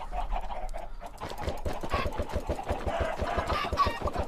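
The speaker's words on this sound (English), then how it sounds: "looks like we have quite a few chickens" Many video game chickens cluck in a rapid, rhythmic stream, close and continuous, the clucks tumbling over one another.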